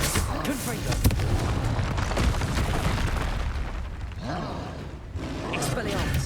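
A Confringo blasting spell in Hogwarts Legacy goes off amid busy combat, with several sharp bursts and crackling impacts over a constant noisy backdrop, loud and close.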